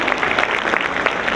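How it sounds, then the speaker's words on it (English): Audience applause for a speaker at an investing seminar, a short burst of dense, crisp clapping from a room full of people, steady and fairly loud with no talk over it. "Another round of warm applause to our speaker, Sir Lawrence Lee"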